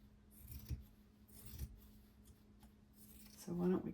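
Scissors snip through fabric for a handmade sewn Christmas journal, giving a few soft, close cutting and rubbing strokes spaced apart, with a brief low voice near the end.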